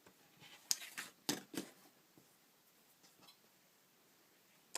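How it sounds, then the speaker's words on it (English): Fabric being cut along a diagonal edge for a quilt triangle, a few sharp crisp snips clustered early, then fainter scattered cutting sounds in a quiet room. "I'm going to cut along the diagonal edge"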